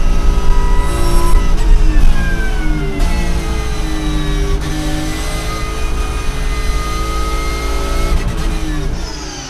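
Race cars roar past at full throttle on the Paul Ricard circuit, a Lamborghini and a Porsche side by side at the end of the straight, engines loud and close with rising and falling pitch as they accelerate and shift through the whole stretch.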